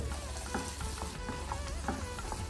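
Chilli powder, asafoetida and curry leaves sautéing in a pan for tomato chutney make a steady, close frying crackle with light stirring throughout.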